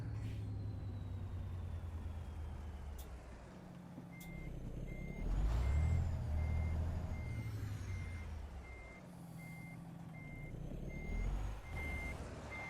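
Truck in American Truck Simulator reverses with a steady, evenly spaced backup beep over a low engine rumble that swells and fades, with an air brake hiss and creaks along the way.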